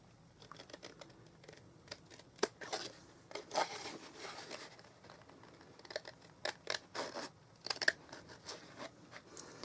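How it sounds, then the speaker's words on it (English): Repeated crisp snips and crunchy cuts of scissors through paper, irregular and close, with brief quiet gaps between bursts. "I'll use these scissors."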